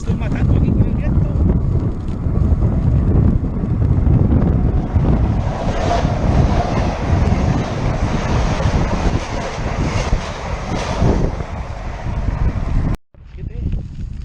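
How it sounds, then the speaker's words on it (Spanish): Strong gusting wind buffets the microphone outdoors, a loud, continuous low rumble with surging roar that cuts off abruptly near the end; a voice may be faintly present beneath the noise. "¡Me estoy matando aquí con el viento!"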